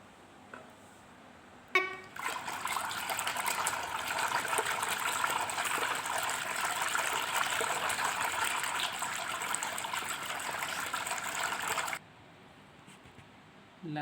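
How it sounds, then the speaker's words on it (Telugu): Set curd thinned with a little water is churned with a wooden churner to make butter, a continuous wet swishing and sloshing that starts abruptly, holds steady for about ten seconds, then stops. "ఇలా కవ్వంతో చిలుక్కోవాలి"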